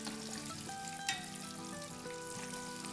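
Fish sticks bubble in hot oil with a quiet, dense, continuous frying hiss and one brief sharper crackle, close by with no voices, under a faint steady tonal hum.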